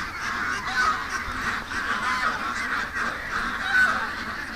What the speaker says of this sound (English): because the ducks are really loud this morning. Just listen to them.